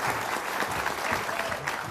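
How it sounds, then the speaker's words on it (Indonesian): Steady applause fills the room as an audience claps for two people called up to the front at an Indonesian stage event, dense and even throughout with no voices over it. "Kita kasih tepuk tangan untuk Mbak Melani dan Mas Mucle."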